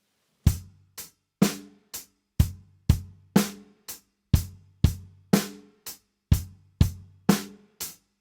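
A drum kit plays two grooves in turn, with sharp kick and snare hits and short cymbal and hi-hat strikes in a steady, loud, close rhythm and no talking.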